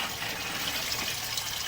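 A pressurized water jet rushes continuously through an underground sewer pipe during an inspection, a steady, loud hissing gush with no breaks.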